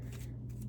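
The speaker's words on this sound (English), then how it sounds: "now we'll shuffle our customer cards" A deck of customer cards from a board game is shuffled by hand, producing a brief soft riffling rustle close up in a quiet indoor room.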